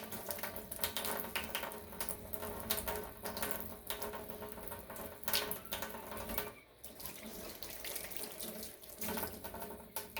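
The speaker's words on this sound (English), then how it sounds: "we're actually going to wash them with soap and water" Running tap water splashes into a sink as glass canning jars are washed with soap and water, a continuous near hiss with small clinks and shifts in the flow.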